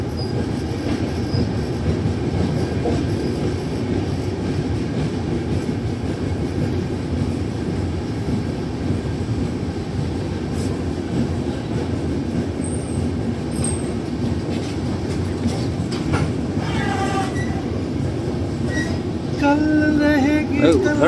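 A New Delhi–Barauni passenger train running on rails, a continuous loud rumble with wheel clatter heard from on board, and faint wheel squeals and voices near the end.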